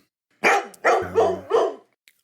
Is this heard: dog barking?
yes